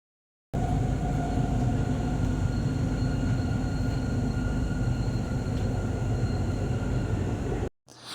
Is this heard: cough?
no